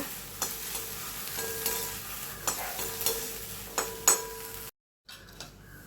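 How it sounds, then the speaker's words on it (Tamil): Turkey berries (sundakkai) are sautéed lightly in a hot wok on a switched-off stove, with a soft sizzle under repeated stirring scrapes and clinks of a spoon against the pan. The sound is close and quiet and ends in a brief silence. "இந்த வடைச்சட்டி சூட்லேயே கலர் மாறாமல் லைட்டாக சுண்டைக்காயை வதக்கிக்கலாங்க"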